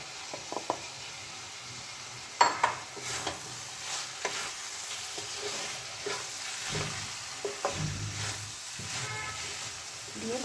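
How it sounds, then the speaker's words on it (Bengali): Sliced potatoes stirred and fried with poppy seed paste in a pan for alu posto, a steady soft sizzle broken by scraping stir strokes and the occasional clack of a spoon, no talking. "দিয়ে ভালো করে আমি পোস্তটা কিন্তু আলুর সঙ্গে মাখিয়ে নেব"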